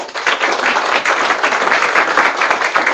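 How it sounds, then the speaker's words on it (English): A seminar audience applauds its speakers at the close of a digital-learning breakfast session, with steady, dense clapping that stays even and fairly loud for the whole stretch and no talking over it. "We'll give a big round of applause for our speakers."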